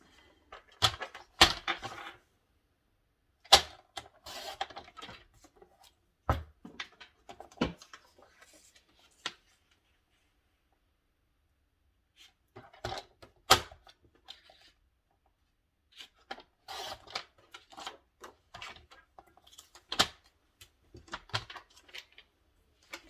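Paper being cut for a scrapbook album with a foliage theme, heard as sparse, close, dry snips and handling taps in irregular bursts separated by quiet pauses.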